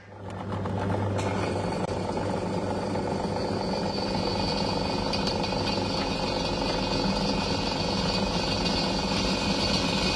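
A power drill bores into the steel frame of a Dewulf leek harvester, starting suddenly and holding a steady, loud grinding whine with a constant mechanical drone throughout.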